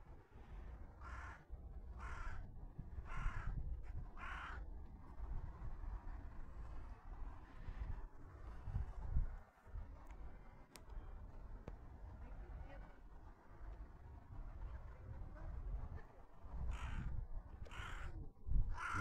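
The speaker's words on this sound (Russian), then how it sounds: "это ворона, он прилетела. Сразу не понял, думаю, где она каркает." A crow near a spot where ducks and a swan rest caws in loud bursts of four harsh calls, then falls silent and caws again at the end over wind noise. A person talks in between.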